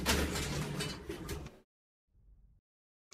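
Faulty elevator doors slide shut with a loud, rattling mechanical rush for about a second and a half. A sudden silence follows, then a brief low rumble.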